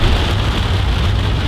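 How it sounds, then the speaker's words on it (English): Heavy rain pours down steadily at a golf tournament, a dense, loud, continuous hiss with a low rumble beneath, no voices. "So it's raining hard"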